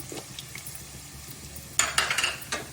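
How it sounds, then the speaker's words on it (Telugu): Chopped onions and green chillies drop into hot oil in a pan for a chicken curry: a quiet, faint backdrop gives way to a sudden burst of loud sizzling and clattering that keeps crackling in uneven waves. "చాప్ చేసి పెట్టుకున్న ఆనియన్స్ వేసేస్తున్నాను అలాగే పచ్చిమిర్చి"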